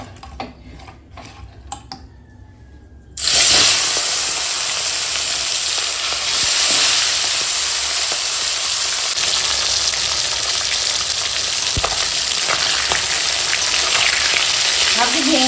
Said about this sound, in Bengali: এখন তেল গরম হয়ে গেছে মাছ ভেজে নেবো চলো